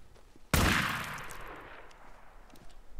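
A single sharp gunshot blast in the post-apocalyptic video game Days Gone, hitting hard and then decaying over a couple of seconds into a fading rumble.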